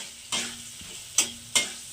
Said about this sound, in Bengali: এবার মশলাগুলোকে একটু এর সঙ্গে ভেজে নেবো শিম আলুর সঙ্গে